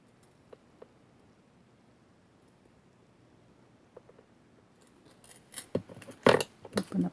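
Small cutters snip a link off a metal jewelry chain for polymer clay earrings, a few faint clicks followed by a cluster of crisp metallic snips and handling rustle close up.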